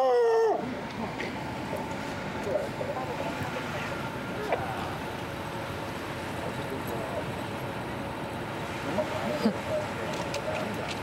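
Dogs whimper and yip near a bus robbery scene, soft whines rising over a steady rumbling background, with people talking intermittently.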